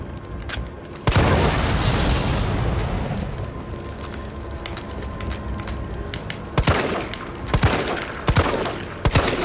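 Gunfire in the video game Resident Evil 3, with a heavy burst of shots followed by a long rumbling roar, then several sharp loud gunshots spaced irregularly near the end.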